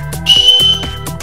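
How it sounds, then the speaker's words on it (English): A safety whistle from a zombie survival kit is blown in two short, loud, shrill blasts close to the microphone, with a brief gap between them. "this thing's got a rape whistle on it"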